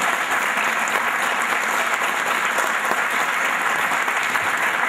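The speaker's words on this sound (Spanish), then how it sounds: "Pido un aplauso para ella." Loud, dense audience applause at a local gathering, a steady wash of many hands clapping close by with no talk over it.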